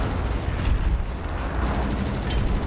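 A grenade blast rumbles in Wolfenstein: The New Order, a loud low boom rolling into sustained debris and roaring noise that fills the scene without talk.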